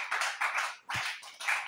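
Bursts of applause from an audience at a religious teaching session come in several short waves, each swelling and fading quickly with brief gaps between.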